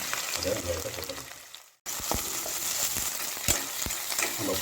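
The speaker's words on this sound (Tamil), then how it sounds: "அதை வெங்காயத்தை போட்டுடலாம்." Chopped large onions hit hot oil in a pan for a black chickpea salna masala, giving a steady close sizzle with scraping and clatter of stirring after a brief dropout to silence.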